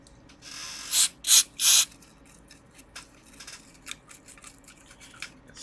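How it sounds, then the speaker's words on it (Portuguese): Three quick, loud bursts of cleaning spray aimed at a base during maintenance of a Korth/Tecnomotor TM503 power supply, followed by faint clicks and handling noise. "Esse spray aqui serve para. Para limpar a base"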